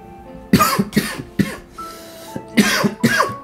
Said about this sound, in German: Tut mir leid, dass ich immer husten muss.